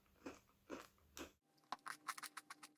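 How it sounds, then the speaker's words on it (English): Thin chocolate-covered Doña Pepa cookies with sprinkles are crunched close up: three separate bites, then a quick run of crisp chewing crunches, faint and without talking. "I love Doña Pepa because it's so crunchy."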